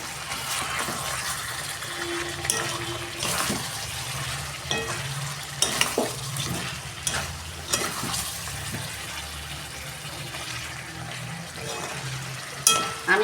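Mutton curry with spices stir-fried in a pan, a steady close sizzle and frying hiss with repeated scraping and stirring clatter throughout, no talking.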